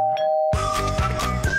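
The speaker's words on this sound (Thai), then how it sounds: "กดกริ่งหน้าบ้าน" A two-tone ding-dong doorbell chimes at a house's front door, loud and close, followed by a few ringing, repeated tones with no speech.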